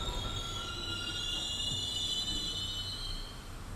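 A train in the video game Silent Hill 3, with steady rumbling and high, sustained wheel squeals running continuously, loud and close with no talking.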